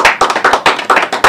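Studio audience applause at a late-night talk show Christmas special, a burst of clapping that stands alone with no talk, rippling in quick uneven pulses with loud swells.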